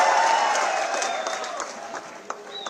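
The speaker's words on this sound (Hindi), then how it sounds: "एक बार जोरदार तालियां" A crowd at a political gathering claps and cheers for a Congress party leader, loud at first and then thinning and fading, with a few scattered claps toward the end.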